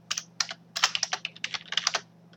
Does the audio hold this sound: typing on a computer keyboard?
yes